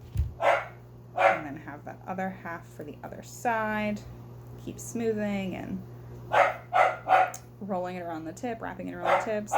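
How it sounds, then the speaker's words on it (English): A small pet dog barks and yips repeatedly indoors, the sharp barks breaking up a steady stream of close speech over a low electrical hum. "because I have no idea why she's barking or what she's getting into"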